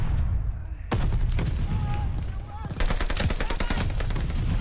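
Dense, loud shotgun and automatic weapon fire in the video game Call of Duty Vanguard, with heavy booms and rapid rattling bursts that fill the clip almost without a break, mixed with a voice.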